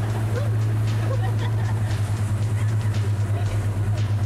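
A motorboat's twin engines run at sea at matched revs, a steady low drone with a throbbing pulse under wind and water noise, close and continuous.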